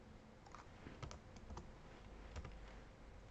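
Computer keyboard keys pressed for a shortcut while stopping a Python program, a few quiet, scattered clicks heard close against faint background hiss.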